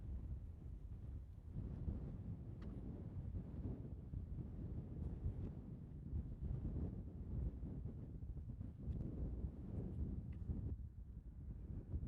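Steady, heavy wind gusts buffet the microphone on a beach at Huntington Beach State Park, South Carolina, making a constant loud low roar that barely eases throughout, with no voices over it.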